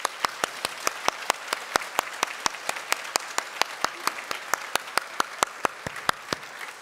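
Congregation applause at a Korean Sunday church worship service, offered to God: steady, dense clapping with distinct regular claps standing out, sustained throughout without voices.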